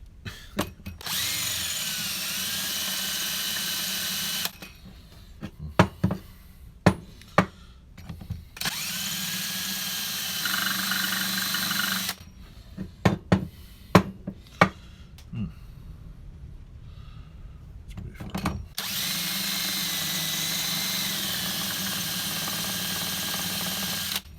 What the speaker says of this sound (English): Drill the small hole.